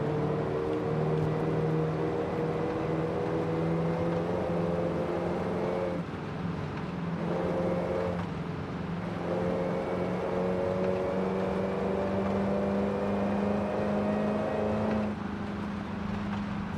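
Car engine cruising at steady high speed in the racing game Forza Horizon 5, a stock six-speed car holding a constant droning tone with brief dips and small shifts in pitch, with no talk.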